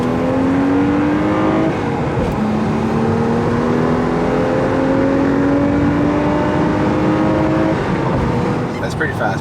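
A modified BMW 335i on a test run, its engine note climbing loud and steady through several gear pulls under continuous road and wind roar.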